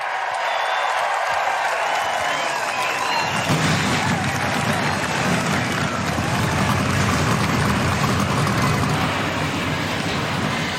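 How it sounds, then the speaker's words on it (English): NASCAR Camping World Truck Series trucks fire up their engines at Nashville Speedway before the Rackley Roofing 200, a loud, dense roar that swells suddenly after a quieter start and then holds steady, mixed with crowd noise. "Drivers, start your engines!"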